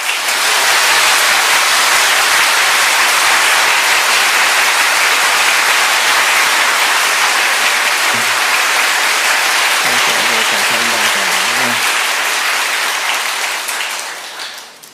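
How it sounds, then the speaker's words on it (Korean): Loud, sustained applause from a church congregation welcoming a guest elder as he comes forward to testify, a dense wash of clapping that swells and holds for about thirteen seconds before tapering off, with faint voices mixed in. "오늘 나오실 때 힘찬 박수로 환영하겠습니다."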